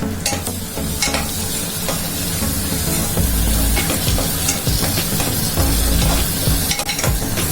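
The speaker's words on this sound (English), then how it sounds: "Fry it for 2 minutes." Red chili powder, turmeric, garam masala and salt fry in oil for paneer butter masala. The pan sizzles loud and close while a spoon scrapes and stirs in repeated strokes, with no talk.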